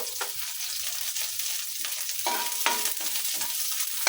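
Onion going into a pan of garlic-sautéed vegetables, with a steady sizzle of frying under repeated stirring and scraping, close and even throughout.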